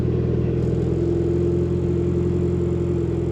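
A Mitsubishi Evo 8 engine, recently rescued from abandonment, idling around 1,100 rpm with a steady low hum and rumble, close by and unbroken, no voices.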